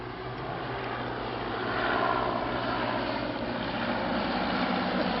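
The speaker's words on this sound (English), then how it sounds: "Stuart Waring is on the DH-87, the nearer of the aircraft." A de Havilland DH-87 biplane flies in formation with other vintage propeller aircraft, a continuous moderately distant engine drone that swells gradually and then holds steady.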